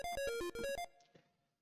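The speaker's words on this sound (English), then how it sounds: "So there are different kinds of pulse waves that the NES could use." NES-style chiptune pulse wave synth playing a quick run of bright, buzzy stepped notes, then cutting off into a short faint decay, with no voice over it.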